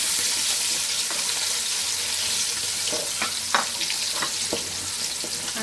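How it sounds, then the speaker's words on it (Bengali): Rice sizzles and crackles in hot oil and ghee, with occasional scraping stirs, heard close and continuous without talk. "চালটা ভেজে নেব তেল আর ঘি দিয়ে ভেজে নিচ্ছি"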